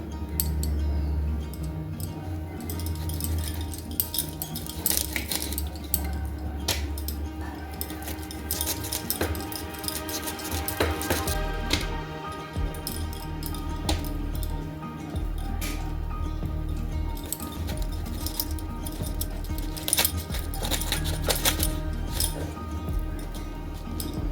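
A knife cuts and peels an elephant apple (chalta) in a home kitchen, giving close, irregular clicks, taps and scraping strokes over a long stretch with no talking.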